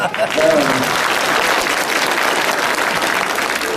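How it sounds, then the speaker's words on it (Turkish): A crowd at a neighbourhood meeting that turned into a political rally claps loudly and steadily, the dense applause filling the whole stretch with a brief voice near the start. "Onları bir alkışlar mısın?"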